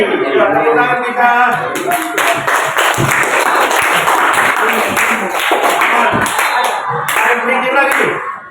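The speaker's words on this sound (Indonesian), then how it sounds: "Ya, tepuk tangan kita." A group claps hands together in a classroom setting, with rhythmic, fairly loud claps in quick bursts and voices talking over them.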